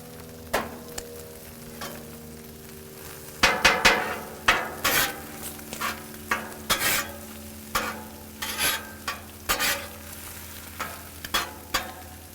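Eggs cooking on a low-heat Blackstone griddle for a breakfast burrito omelet, a steady soft sizzle under repeated sharp scraping and tapping of a spatula on the flat steel top, close by with no talking.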